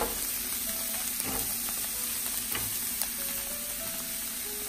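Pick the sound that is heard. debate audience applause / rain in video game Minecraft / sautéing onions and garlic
sautéing onions and garlic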